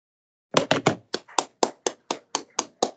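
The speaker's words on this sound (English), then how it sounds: "Nice, we got a clap." Scattered hand claps from a virtual meeting during an employee years-of-service recognition, about a dozen sharp separate claps over a couple of seconds, fairly close and alone with no talk.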